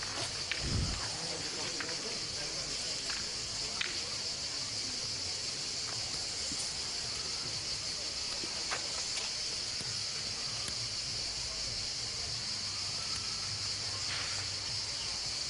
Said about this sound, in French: au chant des cigales que l'on entend.